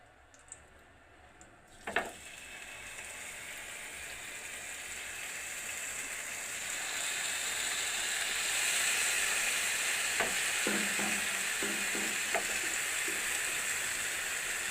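Fish pieces dropping into a hot kadai for a low-oil fish fry: a sharp thud, then a hiss that builds into a steady, moderately loud sizzle with a few light clicks later on.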